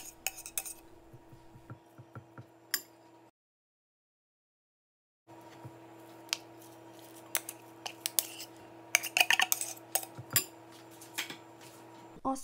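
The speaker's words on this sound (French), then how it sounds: "Dans une assiette, je verse 2 boîtes de thon." Metal utensil scraping and tapping on a plate as two cans of tuna are emptied out, a series of close clinks and scrapes broken by a short gap of silence.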